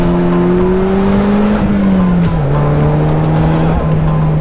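A 2017 Polaris Slingshot SL engine drones loud and close under heavy throttle, its steady tone rising slightly and dipping briefly at gear shifts, with wind rush throughout.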